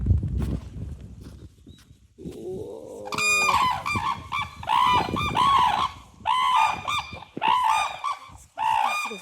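Swans and cranes calling loudly in winter Hokkaido, a series of close, loud honking and trumpeting calls in repeated bursts, several birds overlapping with short pauses between, no talk.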